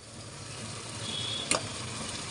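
Ginger paste sizzling in hot oil in a pan while cooking chicken kabsa: a steady, soft frying hiss with one brief scrape or clink of stirring midway.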